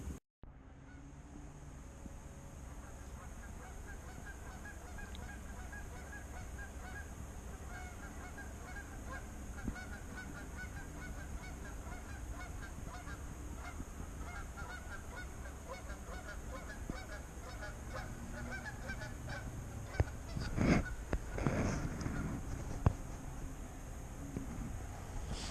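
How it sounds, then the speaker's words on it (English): Six geese honking as they come in to land in a cornfield during a deer hunt, loud calls bunching near the end over steady wind and distant low rumble. "just had 6 geese come land in the cornfield"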